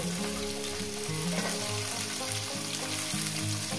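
Potatoes and radish frying in a pan for a rui fish-head chorchori produce a dense, steady sizzle with bubbling crackle, close and continuous, with no talk.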